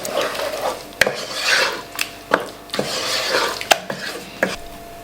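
A spoon stirs a knob of butter into a creamy mixture off the heat, a steady rasping scrape broken by several sharp clicks against the pan.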